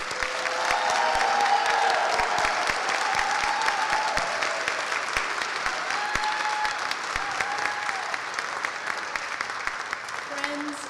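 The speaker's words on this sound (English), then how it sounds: "Let's give them one more round of applause." A large crowd at a graduation ceremony claps steadily and loudly for the whole stretch, dense applause with a few faint voices mixed in.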